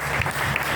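A church congregation applauding to praise the Lord during a baby's presentation service, a short, dense burst of many hands clapping together.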